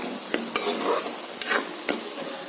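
Ash gourd and fish curry stirred in a pan with no water added, a few sharp spatula scrapes and knocks against the metal over a soft steady sizzle, close and alone.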